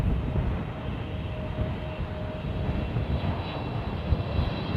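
Jet airliner arriving on runway 09 with thrust reversers deployed, giving a steady, loud broadband roar that holds for the whole stretch without a break.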